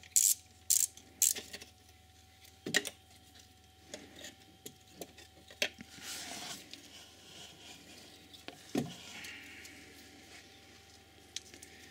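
Bolts being undone on a 2.0 TDI engine's cover plate during a cambelt and water pump job, heard as a burst of quick ratchet clicks early on, then scattered metallic ticks and clanks nearby with no talk.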